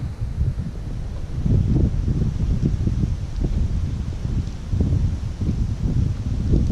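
Wind blowing outdoors beside water while fishing for pike, a steady low rumbling buffet of gusts against the microphone with no talk.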